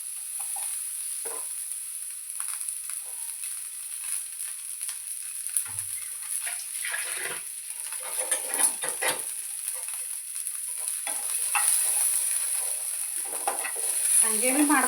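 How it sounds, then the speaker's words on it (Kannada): Onions frying in oil in a pan for masala gravy, a steady soft sizzle throughout with occasional scraping stirs, no talk. "ಉಳ್ಳಾಗಡ್ಡಿ ಹಾಕೊಳತ್ತೀನಿ ಚಂದ ಹುರ್ಕೋಬೇಕು ಯಾಕಂದ್ರೆ ಮಸಾಲ ಗ್ರೇವಿ ಸಲುವಾಗಿ ಹುರ್ಕೊಳತ್ತೀನಿ"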